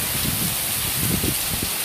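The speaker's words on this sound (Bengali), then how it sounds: "বৃষ্টির রিমঝিম শব্দ" Heavy morning rain pours down in Chapainawabganj, a dense, even hiss of falling water with soft patters beneath, steady and enveloping for a short moment.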